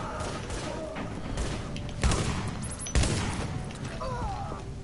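Gunfire from a gun in The Division video game, with a background rattle of shots and two heavier booming blasts standing out midway, moderately loud.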